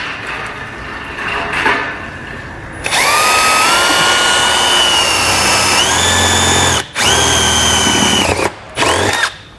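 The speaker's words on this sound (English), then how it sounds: "I'm gonna drill a little hole in the side here" A power drill bores a small hole into the side of a tube under a 2014 Toyota during a trailer brake controller wiring install, running in loud steady bursts with brief pauses and pitch shifts as the bit cuts through.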